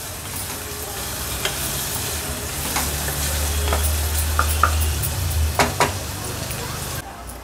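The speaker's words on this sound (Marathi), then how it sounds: "आता कांदा छान मऊ होईपर्यंत लो फ्लेमवर आपल्याला शिजवून घ्यायचा आहे।" Onion and green chili softening in a pan over a low flame: a steady, even sizzle with occasional light clinks and scrapes of utensils, and a low hum underneath, ending abruptly.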